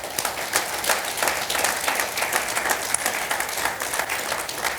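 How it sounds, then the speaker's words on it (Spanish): A church congregation applauds during a service, with many hands clapping in a lively, uneven rhythm that fills the room for several seconds without pause. "Denle un fuerte aplauso al nombre de Dios"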